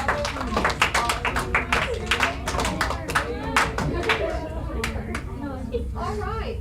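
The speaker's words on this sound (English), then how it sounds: "Let's give her some applause." Classroom applause for a student, a scattered run of separate claps from a small group of students, with talking and voices over the clapping.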